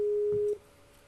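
Telephone busy signal after a dropped call: a steady electronic tone sounds alone for about half a second, then cuts off, leaving faint line hiss.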